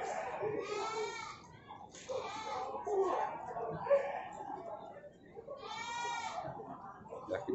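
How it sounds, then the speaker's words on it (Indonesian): Javanese goats bleat repeatedly at a goat market, several drawn-out wavering calls rising over a murmur of people talking nearby. "Ini kambing Jawa biasa ya."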